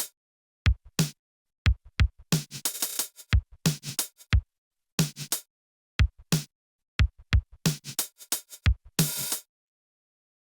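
Drum beat sample time-stretched by warping in Ableton Live, with sharp kick and snare hits and brief noisy bursts in an uneven, stuttering pattern separated by silences. No voice.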